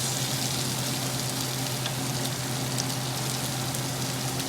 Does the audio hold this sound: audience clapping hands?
no